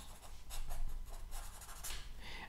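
Pencil scratching across paper while a signature is written beneath a cartoon drawing of a mole, with close, quiet, irregular strokes continuing throughout.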